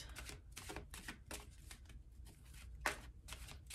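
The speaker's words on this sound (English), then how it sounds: "I just shuffle and wait for things to fall out" Tarot cards being shuffled by hand, a series of crisp riffling bursts repeating at an irregular rhythm, close and fairly quiet with no talk.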